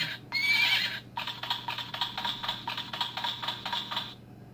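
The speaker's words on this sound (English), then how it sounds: "I have found that it doesn't always whinny on the hour." A vintage 1970s horse clock gives a short electronic whinny followed by a rapid series of clip-clop hoof beats, faint and close in a quiet room.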